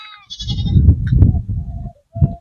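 Goats bleat on a livestock farm, several short wavering calls close by with brief pauses between them and no talk over them.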